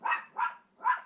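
A dog in an apartment gives three sharp, evenly spaced barks, close and fairly loud, with no voices.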